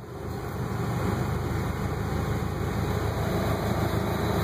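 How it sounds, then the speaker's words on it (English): A 1996 Acura Integra idling in drive with the air conditioning on gives a steady, close engine drone with a faint buzzing rattle running through it. The tone holds constant throughout, with no talk. "it'll start making that rattling noise"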